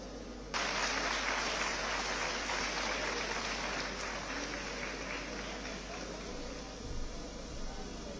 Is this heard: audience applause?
yes